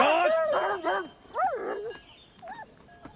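A dog barks in a few loud, close bursts with a whining, yelping edge, separated by short pauses, then quieter yelps toward the end; shouting voices overlap the early barks.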